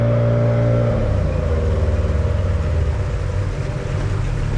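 Steady, loud drone of a houseboat's engine idling close by on the water, a low rumble with a slight pitch shift early on.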